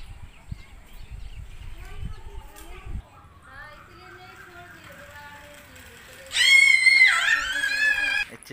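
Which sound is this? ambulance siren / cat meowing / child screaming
child screaming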